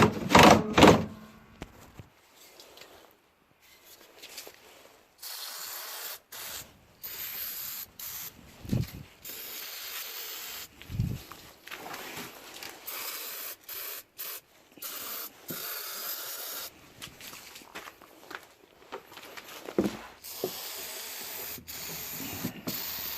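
Several short bursts of WD-40 aerosol spray hiss close by on a stock Toro Snow Commander 7HP snowblower, separated by brief pauses and rubbing sounds.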